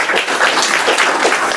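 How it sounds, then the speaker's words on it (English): Audience applause in a spoken English class hall welcoming a new student, dense steady clapping from many hands throughout, fairly loud and close with no talk over it. "And again, clap for her."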